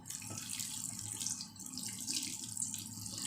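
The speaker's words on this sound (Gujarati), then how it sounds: "આપણે નૂડલ ગરમ પાણીમાંથી કાઢી લીધા છે, અને ઉપરથી આપણે ઠંડુ પાણી ઉમેરશું" Cold tap water runs over boiled noodles in a strainer, a steady close splashing stream with small gurgling variations, continuous and without talk.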